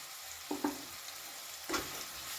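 Tomatoes dropped into hot oil with sizzling spices for a Bengali duck egg curry, giving brief crackling splashes and stirring scrapes over a low steady fry, with no talk.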